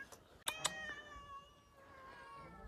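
A domestic cat gives a couple of short, faint meows with a few soft clicks before, heard close in a quiet indoor room.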